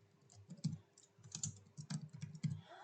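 Keys clack on a computer keyboard as keywords are typed, a close run of quick uneven taps in short bursts, alone.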